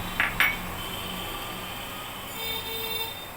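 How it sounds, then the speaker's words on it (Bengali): Cashews, raisins and almonds drop into a pot on low gas with two quick clattering rattles, followed by a quiet, steady background hiss. "এবার দিয়ে দিচ্ছি কাজু বাদাম, কিশমিশ এবং আলমন্ড।"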